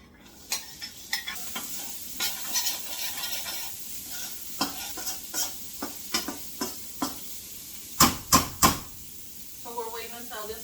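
A whole yellow onion frying in two tablespoons of oil in a pot, a bright sizzle broken by repeated scraping stir strokes, with a quick cluster of sharper clatters near the end.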